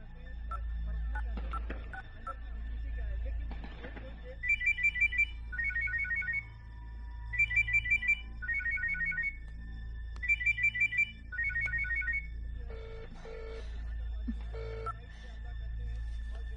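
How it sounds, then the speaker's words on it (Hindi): A phone ringtone trills in repeated paired bursts, ringing several times with nobody picking up, over a low background hum. "मम्मा, राज फोन नहीं उठा रहा है"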